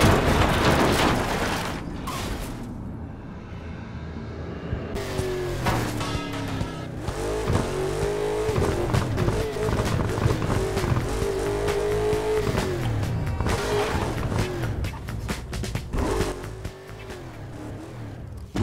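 A car in Burnout Paradise roars at high revs through a long stretch, engine pitch climbing and falling as it accelerates, with sharp tire squeals and crashing mechanical bursts breaking in near the start and end; loud and close, no talking.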